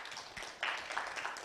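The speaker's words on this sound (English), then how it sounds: "please give a round of applause for Mr." A brief burst of audience clapping at a Nairobi tech week event as a speaker is welcomed to the stage, a soft, dense patter of many hands that swells slightly and carries on without voices.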